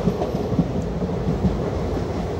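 The West Coast Express passenger train on the Mangalore to Chennai run rumbles steadily near the Western Ghats, with a continuous loud rolling roar and faint rhythmic clatter of wheels on rails, no voices.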